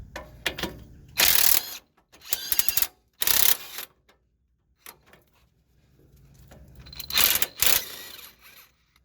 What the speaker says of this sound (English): The hex key will hold the stud in place and the wrench will turn the nut.